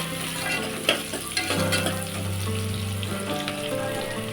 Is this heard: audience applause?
no